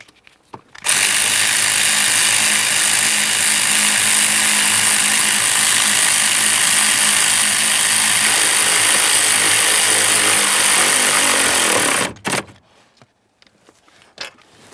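A power tool runs in one loud, unbroken whir for about eleven seconds, tightening the brake booster locking nuts under the dash of a 2004-2008 Ford F-150, then stops abruptly.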